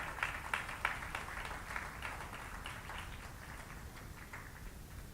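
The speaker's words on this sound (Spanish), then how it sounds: "¿Cuántos le dan un aplauso al Señor glorioso?" A church congregation applauds for the Lord during a sermon, soft, distant and continuous clapping that blurs into a faint wash of many hands.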